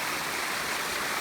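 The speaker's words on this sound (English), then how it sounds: "The water comes from all the way up there and it falls all the way" Steady broadband rush of water at a waterfall in San Antonio, falling from high above into a pool below, filling the whole short stretch at an even, close level with no voices.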